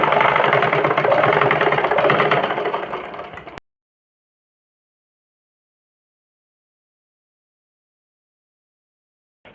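A sewing machine runs steadily as it stitches a folded-in blouse hem, a continuous whirring drone for about three and a half seconds before it stops and silence follows.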